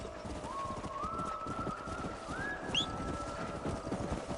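Horse hooves in the video game Red Dead Redemption, a steady clip-clop of a ridden horse under quiet ambient game sound, with a few faint rising tones and chirps over it.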